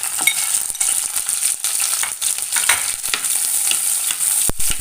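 Green chillies fry in hot oil for a Kerala-style prawn curry: a bright, steady, close sizzle with frequent spatula clicks and stirring scrapes, and one sharp knock near the end. No one talks.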